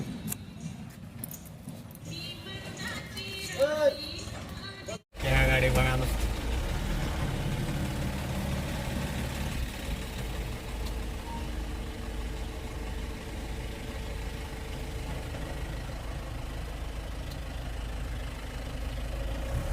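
A diesel vehicle engine idles steadily, then a sharp break leads into a louder, continuous drive as it pulls away on a rural road near Rahimatpur and Koregaon, with a voice speaking briefly early on.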